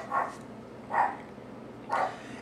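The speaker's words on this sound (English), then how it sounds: "Ignore that, that's just my dogs." Domestic dogs bark in the background, three separate woofs spaced about a second apart, moderately quiet and indoors-sounding.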